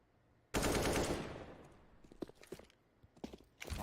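Gunfire in Counter-Strike during a PGL Major Stockholm 2021 esports match, a loud close burst of rapid shots followed by scattered quieter shots and footsteps.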